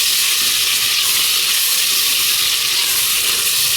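Ginger garlic paste and meat fry in hot oil while being stirred, giving a loud, constant, close hiss that runs unbroken throughout.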